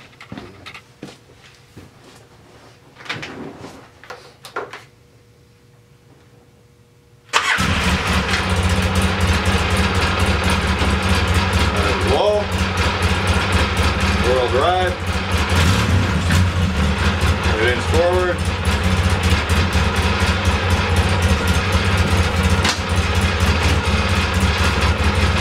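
A Polaris Sportsman 700 4x4 ATV engine kicks in abruptly after a few seconds of quiet, then runs loud and steady at an even idle-like drone for the rest of the clip.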